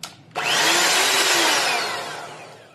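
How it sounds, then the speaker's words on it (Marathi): Electric beater whipping cream until thick, starting abruptly with a loud, steady whirring motor whine close by, then slowly fading toward the end. "तर ही क्रीम आता फेटून झालेली आहे।"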